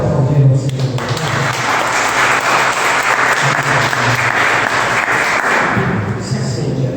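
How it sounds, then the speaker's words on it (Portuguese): A church congregation applauds together in a sustained wash of clapping, with a voice calling out over it at moments. "Você pode aplaudir o Senhor."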